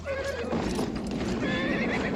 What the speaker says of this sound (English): here Bobby come riding in on this horse, and they fired off a couple squibs in front of him, and boy, I'm gonna tell you what, this horse went to wolfing it up